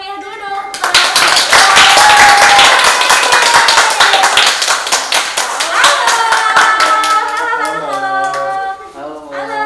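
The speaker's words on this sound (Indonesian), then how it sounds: "Beri tepuk tangan yang meriah dulu dong." An audience at a panel discussion breaks into sustained, loud applause, dense clapping that swells quickly and holds for several seconds before tapering, with a voice speaking over the end.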